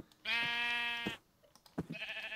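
Sheep bleating inside a Minecraft-style block-building video game: one long, loud, wavering bleat close up, followed after a short pause by clicks and the start of another bleat.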